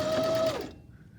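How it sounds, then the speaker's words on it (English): Sewing machine running a short burst of reverse stitches to reinforce the corner of a square pillow, a steady close mechanical whir that stops about halfway through, leaving quiet room noise. "To reinforce the corner, we're just going to do a small few stitches back with pressing our reverse stitch button"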